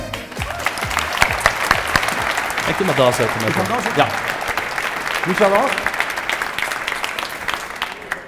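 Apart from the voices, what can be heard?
audience applauding Tom Dumoulin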